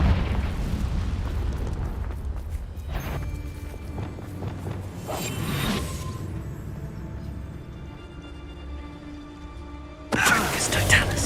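In the Hogwarts Legacy video game, the Confringo fire spell explodes in several separate booming bursts among other game sounds, with the last blast loud and close.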